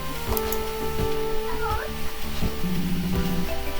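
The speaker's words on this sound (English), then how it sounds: "Doing her sad meows." A cat meows plaintively in the cozy farm-life video game Fields of Mistria, its sad, drawn-out cries rising over steady game music and sound effects while a voice talks alongside.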